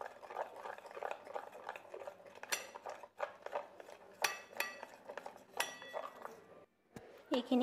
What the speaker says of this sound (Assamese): এতিয়া মই এইখিনি মিশ্ৰণ কৰিম।